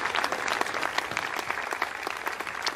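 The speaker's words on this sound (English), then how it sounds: "You hear the applause." Staff in a rocket launch control room applaud after a Soyuz mission's satellite separation, steady clapping from a modest group at moderate distance with some individual claps standing out.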